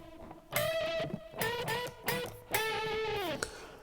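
Electric guitar plays double octave string bends across two strings, producing a dual-toned octave sound; several sharp, sustained bent notes ring out in turn, close and distorted, with no talking.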